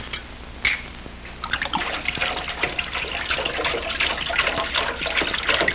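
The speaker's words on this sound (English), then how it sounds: "Pour it in the sink." Liquid poured into a sink during home photo developing, a steady trickling, splashing stream that is close and moderately loud, running for several seconds with no talk over it.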